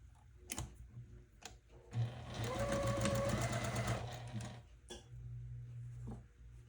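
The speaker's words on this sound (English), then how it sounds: "let's stitch our first row together, or I may just go ahead and stitch all the rows together" A sewing machine stitches precut layer cake quilt rows together, running in a steady loud mechanical whir for a few seconds between softer clicks and handling noises.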